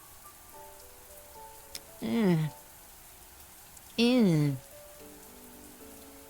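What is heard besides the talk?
rain hitting the ground in a visual novel video game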